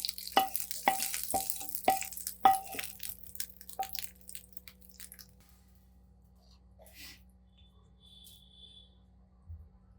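Hot tempering poured into drumstick-leaf chutney sets off a quick burst of sharp crackles and pops over the first few seconds, then fades to near silence with only a few faint clicks afterward.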